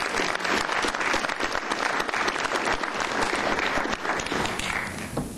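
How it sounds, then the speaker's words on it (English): An audience at a council meeting awards ceremony claps steadily in a sustained burst of applause, fairly loud and close, tapering slightly at the end. "Let's give him a round of applause."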